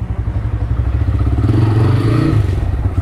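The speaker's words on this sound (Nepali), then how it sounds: "फर्स्ट अफ अल चाहिँ बाइक डगौँ" Motorcycle ride-hailing bike being ridden, a steady low engine drone with a rougher, louder stretch midway, close and continuous with no talk over it.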